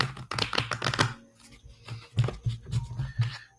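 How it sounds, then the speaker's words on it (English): A deck of cards is shuffled by hand during a psychic reading, giving quick riffling bursts of papery clicks in two clusters with a short pause between, close and fairly loud. "Let me shuffle my deck."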